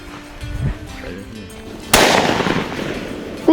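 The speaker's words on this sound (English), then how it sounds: "We almost shot it." A shotgun fires once at close range during a dove hunt, a sharp loud blast followed by a short decaying rumble, with faint voices and outdoor noise before the shot.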